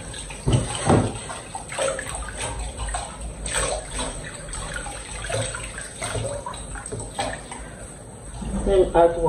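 Tap water splashes into a small container being washed in a Nigerian family kitchen in Aba, a running, sloshing pour heard close up beneath someone talking throughout.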